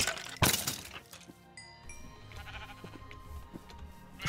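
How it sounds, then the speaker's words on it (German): Sheep in the video game Minecraft bleat briefly and quietly amid game noises, including a sharp crack near the start and a short bright chime, over a low background. "Oh, sind hier viele Schafe, guck mal."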